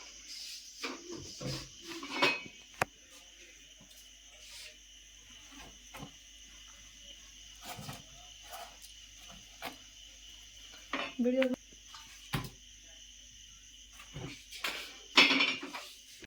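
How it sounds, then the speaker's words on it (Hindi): Knife chopping onions in a home kitchen, with sparse clinks and taps on a board and utensils coming in scattered bursts with pauses between them, fairly faint and close. "तो मैं प्याज काटूंगा तब तक फ़िलहाल।"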